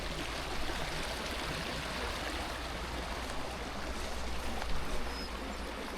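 Stream of water on Dartmoor, a steady, broadband rushing and trickling flow heard close and continuous throughout, with no talking over it.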